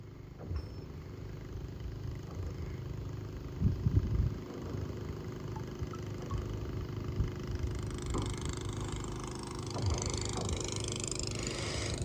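A motor boat engine hums and chugs steadily on the lake near the Rathoa Haryam bridge at Mirpur, a constant mid-distance drone with occasional clatter and no talk over it.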